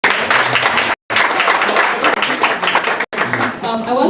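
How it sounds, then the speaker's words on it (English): An audience at an international school applauds a speaker, dense and loud clapping, with two brief cut-outs, cheers and voices mixed in near the end. "Let's give him another round of applause."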